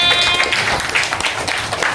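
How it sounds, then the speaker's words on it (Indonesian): A classroom of children applauds a pupil, a steady, fairly loud patter of small hands clapping throughout with faint voices mixed in. "Tepuk tangan lagi untuk Nauren."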